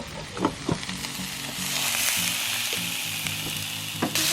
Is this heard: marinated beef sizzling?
yes